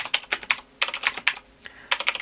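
Computer keyboard keys clack in quick clustered bursts with short pauses between, close and clear, while code is entered for a stock EPS spreadsheet; no one talks.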